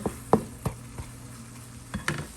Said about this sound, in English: I'm going to add a little bit more of the chicken broth, just so that way the cauliflower rice really gets nice and soft